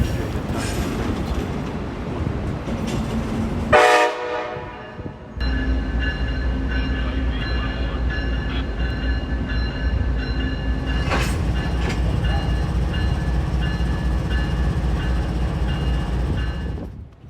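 An Amtrak Acela train pulls into the New Haven station platform beside a stationary train, with a steady loud rumble, rolling rail clatter and brief high-pitched squeals and tonal whines throughout.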